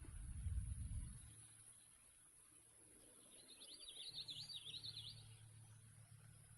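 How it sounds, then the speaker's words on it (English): A common yellowthroat sings a quick rolling phrase of high notes from a marsh, faint and distant over a low engine rumble and steady hum, with no voices. "We got the yellow-throat again."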